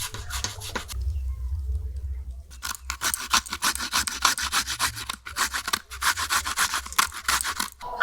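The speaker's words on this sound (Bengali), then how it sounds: "আমটা আমি খুব সুন্দর করে গ্রেট করে নিয়েছি" Raw mango is grated by hand, producing close, rhythmic rasping strokes in quick succession, broken by a short pause and a low thud before the scraping resumes steadily.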